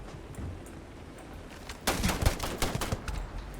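Enemy gunfire in Starfield shooting down from above, a cluster of sharp cracking shots breaking out midway after a quieter stretch of game ambience.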